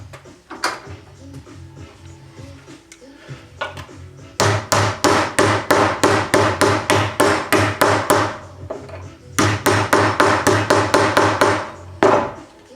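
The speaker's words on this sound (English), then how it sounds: "So we'll use a flaring tool, and that will clean that burr out of there nicely, nice and smooth" Flaring tool working the burr out of a freshly cut metal tube, giving loud, rapid repeated scraping clicks in two long bursts after a quieter stretch of handling noise.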